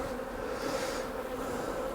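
A soft, steady swarm of honey bees hums around a beehive super frame, a continuous mid-pitched drone at moderate distance, no voices present.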